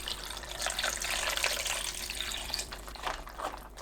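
A steady, close stream of water splashes as 1.5 liters are poured into a pot holding radish, dried pollack and chili peppers, continuous throughout.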